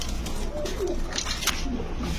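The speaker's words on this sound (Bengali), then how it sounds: "জলিল ভাই এটা কি কবুতর ভাই?" An Iranian pigeon at a pigeon farm gives soft cooing, low and murmuring, amid a busy, noisy background.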